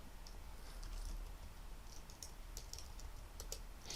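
Computer keyboard keys being pressed, a few faint, quick clicks scattered irregularly over a quiet room background with no talking.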